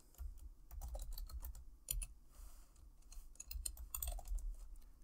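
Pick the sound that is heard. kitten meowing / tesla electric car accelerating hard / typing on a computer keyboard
typing on a computer keyboard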